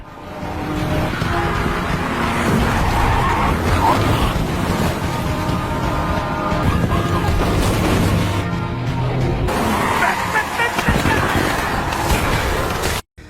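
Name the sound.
car chase with skidding tires in zombie film Peninsula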